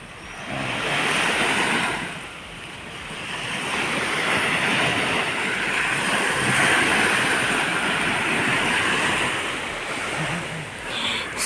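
Sea waves roll in at a beach, swelling and receding in a broad steady roar with wind buffeting the microphone, loud and continuous with no voices.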